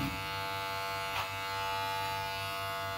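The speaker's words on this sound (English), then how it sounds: "you just glide the clipper on top of your styling comb" An electric hair clipper glides over a styling comb during a medium-short tapered haircut, a loud, close, steady buzz that holds unbroken for the whole stretch.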